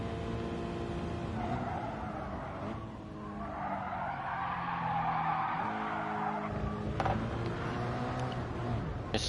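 A race car in Gran Turismo Sport, an N200 class car at Autopolis with traction control off, slides into a corner with a continuous tire skid over steady engine drone, loud and close, with no voices.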